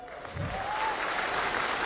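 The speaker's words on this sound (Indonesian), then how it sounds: "Bawa tepuk tangan paling meriah untuk ulang tahun ke-25 LP3I" An audience applauding at an LP3I 25th anniversary event, a dense steady wash of clapping with a faint tone underneath.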